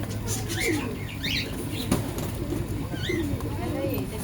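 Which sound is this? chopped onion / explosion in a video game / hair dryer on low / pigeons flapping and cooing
pigeons flapping and cooing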